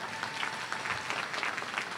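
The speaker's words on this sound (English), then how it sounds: "Yes, you can cheer for that too." An audience at a community college commencement in Ohio claps in a steady wash of applause, heard from a distance and fairly faint, with a few cheers mixed in.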